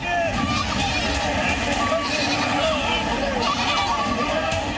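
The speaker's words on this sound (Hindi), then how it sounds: "जो सैकड़ों भेड़ बकरियों को लेकर नदी पार करते नजर आए" Hundreds of sheep and goats bleat continuously as herders drive them across a rain-swollen river in Jalore, Rajasthan, during heavy monsoon flooding, with steady rushing water and a crowd murmur beneath the overlapping calls.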